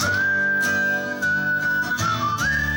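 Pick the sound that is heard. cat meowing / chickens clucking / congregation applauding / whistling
whistling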